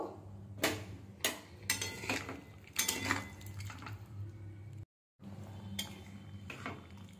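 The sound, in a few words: stirring curry with yogurt and water in a pan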